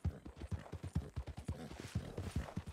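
A horse's hooves clip-clop at a steady trot in the video game Red Dead Redemption 2, a quick, even rhythm of soft thuds heard close and faint, with no voices.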